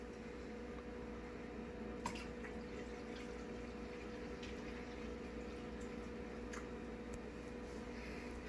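Water is poured into red cabbage juice to dilute it, giving a faint, steady liquid wash with a few soft splashes and drips throughout.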